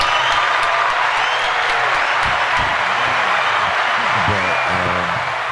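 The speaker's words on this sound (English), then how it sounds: "Everybody give Barbie a hand clap." Studio audience clapping and cheering to welcome a guest named Barbie, a loud, continuous roar of applause that holds steady throughout, with faint voices mixed in.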